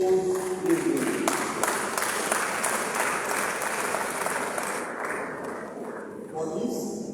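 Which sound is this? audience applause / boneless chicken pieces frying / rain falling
audience applause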